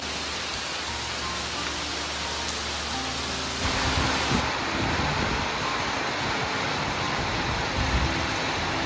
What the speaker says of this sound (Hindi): बहुत ज़्यादा बारिश हो रही है यहाँ पर